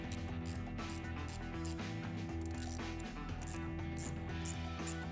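A ratchet wrench removes a 10mm nut from the positive battery terminal of a 500hp AMG car, giving a quiet, steady run of rapid mechanical clicks.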